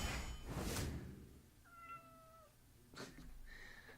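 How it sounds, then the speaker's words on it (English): A pet cat meows a few times close by, drawn-out tonal calls standing out against quiet room noise, with a couple of soft knocks near the end. "My cat's just standing here meowing at me."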